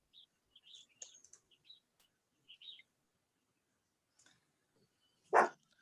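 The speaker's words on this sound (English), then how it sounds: "sorry, dogs are barking." Dogs bark once loudly and close near the end, after a quiet stretch of scattered bird chirps, with no talk.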